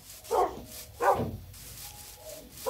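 Wolf in the video game Minecraft, making two short, whining yelps about half a second apart, followed by faint, thin whimpers.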